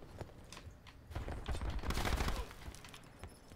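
Rapid gunfire in Black Ops 4 gun game mode, a quick burst of clattering shots at moderate distance, fairly quiet and dense in the middle, without talk.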